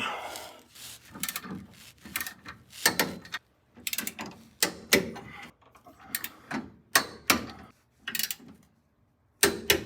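A wrench ratchets while tightening sway bar bolts on a 1971 Chevelle SS, in bursts of rapid clicking separated by short pauses, close and fairly loud with no talking.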